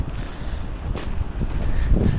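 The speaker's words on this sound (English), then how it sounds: "Pretty quiet, a little windy" Steady wind buffeting outdoors on a snowy day in Portland, a low rumbling gusty noise throughout with a slight swell toward the end, no voices.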